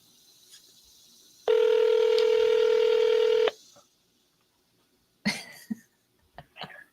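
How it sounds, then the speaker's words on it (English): Touch-tone telephone dialing: a steady two-tone DTMF beep held for about two seconds, loud and alone, followed by a few faint clicks and a brief breath or throat sound. "I'm just gonna double dial these real quick."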